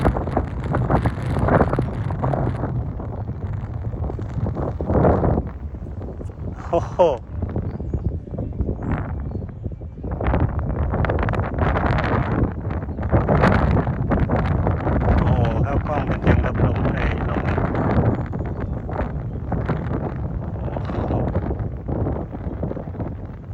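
Strong wind with rain rumbles and buffets the microphone in low, gusty bursts during kite flying, while someone talks over it at close range.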